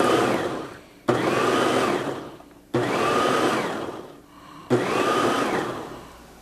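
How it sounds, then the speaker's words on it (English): A food processor pulses Jerusalem artichokes and other vegetables for relish in three loud whirring bursts, each running about one and a half to two seconds and separated by brief pauses. "we're going to pulse up some more vegetables with what's left of the artichokes"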